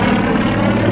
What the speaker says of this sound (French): c'est des avions qui en plus ont ce comportement d'une précision incroyable